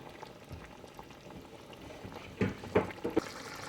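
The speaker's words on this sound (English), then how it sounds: "we're just going to let that cook until it gets tender. It's going to cook in the broth" Sese yam simmers in a spiced broth, giving a low steady bubbling wash with a few louder pops and gurgles near the end.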